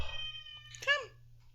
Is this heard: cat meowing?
yes